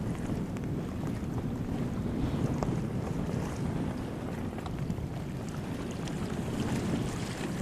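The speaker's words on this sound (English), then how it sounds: "that wind's picking up" Strong gusty wind sweeping over a lake on a windy day, a loud continuous roar buffeting the microphone, with a faint wash of water beneath it and no voices.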